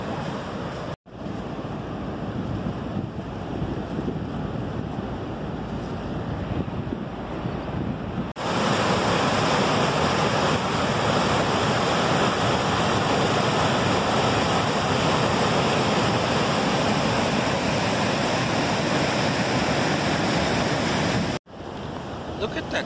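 The rushing rapids of the Niagara River roar as a dense, continuous wash of churning water, loud and close, with heavy wind buffeting the microphone and growing stronger partway through.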